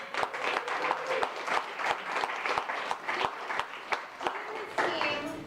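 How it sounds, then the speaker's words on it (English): Applause and scattered sharp claps from guests at the Seed Chicago launch party, a fairly quiet room with distinct individual hand claps over a softer crowd patter and some voices mixed in. "Let's give him a round of applause."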